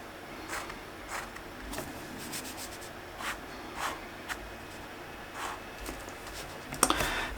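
A pen drawing on paper in a hand-sketched scene, soft intermittent scratchy strokes in short bursts, quiet and close, with a brief rustle near the end.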